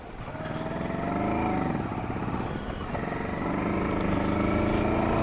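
A motorcycle riding a mountain road in the Himalayan foothills near Rampur Bushahr, its engine droning steadily and close with a rising and falling pitch as it climbs and shifts, under continuous wind rush.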